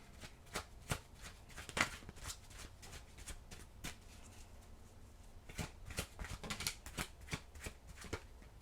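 Tarot cards being shuffled in a steady run of soft riffling slaps and flicks, close and fairly quiet, with no talking over them.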